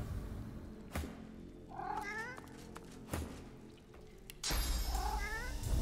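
A cat meowing in Divinity: Original Sin 2, two distinct rising-and-falling meows a few seconds apart, fairly close and clear over low game ambience and a few soft thumps.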